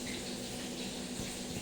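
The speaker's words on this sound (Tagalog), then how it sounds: "lagay natin yung maligamgam nating tubig" Lukewarm water pours steadily into flour for cheese bread dough, a soft, even trickle that stays quiet and unbroken throughout.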